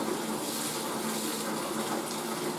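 Warm tap water pours steadily into a bowl with washing up liquid, a continuous close gushing splash with no pauses.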